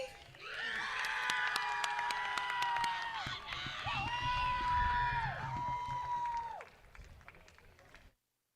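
Sustained audience applause at the NTS Class of 2025 graduation ceremony, dense clapping with whoops and raised voices over it, then dropping to scattered claps and fading out.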